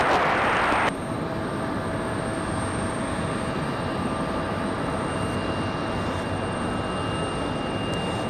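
Airliner arriving on runway 32 at Raleigh-Durham International Airport, a steady broadband engine roar holding constant at moderate distance after a brief burst of louder noise at the start, with no talk.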